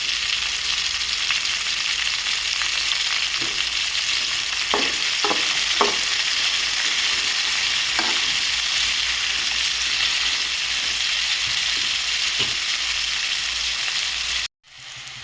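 Bitter gourd fries in a pan with a constant close sizzle, broken by several scraping knocks as the pieces are stirred, before a brief cut near the end.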